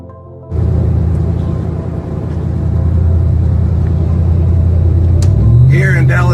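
Armored UN vehicles rumble along a road, a steady loud engine drone with a rising whir near the end, under faint voices.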